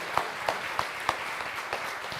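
An audience at a city candidate forum claps in steady applause, with a few sharper individual claps standing out in a quick, even rhythm.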